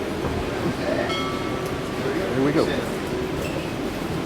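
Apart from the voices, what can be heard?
Palm Springs Aerial Tramway cabin moving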